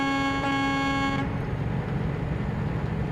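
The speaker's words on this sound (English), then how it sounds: "Good old few honks." A truck horn blasts loudly for about a second with a bright, steady multi-tone chord, then cuts off, leaving the low rumble of the truck's engine and road noise.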